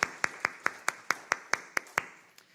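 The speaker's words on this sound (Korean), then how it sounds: "우리 서준이 환영하면서 우리 박수하겠습니다." A church congregation claps in unison to welcome a child at a worship service, about ten sharp, evenly spaced claps at a steady rhythm, moderately close and clear with no talking.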